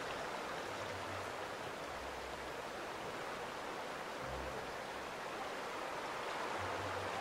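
A river flowing in The Outer Worlds, played on PS4: a soft, continuous rushing of water, faint and steady, with no talk over it.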